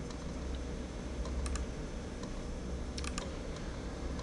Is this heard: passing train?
no